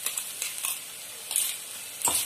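A soft sizzle of ginger-garlic and green chili paste frying in oil runs throughout, broken by a few brisk scraping stirs of a spatula in the pan.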